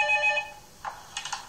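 A telephone rings in an office answering calls for a missing-persons search foundation: a steady electronic ring opens, then a few short chirping bursts follow, moderately loud with no talk.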